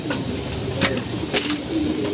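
Pigeons coo softly in low, repeated murmurs against a hissy background, with a few brief flutters or rustles.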